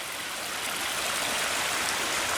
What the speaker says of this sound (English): Now it's got like a river going through it. You can see it's coming out of the mountains,